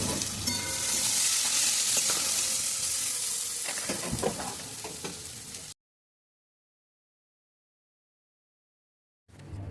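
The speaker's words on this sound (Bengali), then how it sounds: "এবার কড়াইতে জিরে ফোড়ন দিয়ে জিরেটা একটু ভাজা ভাজা হলে এর মধ্যে দিয়ে দেবো পেঁয়াজ কুচিটা" Chopped onion and cumin seeds sizzling in hot oil in a wok, a loud bright frying hiss with occasional stirring scrapes, which then cuts to silence before a brief return.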